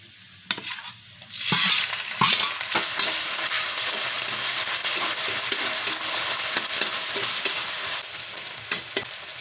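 Tuna flakes drop into a pan of sautéed garlic and onion and are stir-fried, a loud burst of sizzling followed by continuous hiss and frying with intermittent scraping and stirring clicks.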